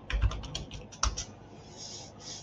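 Rapid keystrokes on a computer keyboard, a quick run of close clicks, then a brief pause before a couple more taps over faint background hiss.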